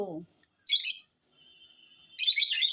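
Pet birds on a rooftop let out loud, sharp bursts of screeching calls, two harsh flurries close by, with a brief voice at the start.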